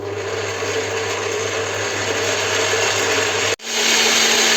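Electric mixer whipping egg whites toward stiff peaks for swallow's nest cookies, a loud continuous motor whine that cuts out briefly and then restarts at a different pitch.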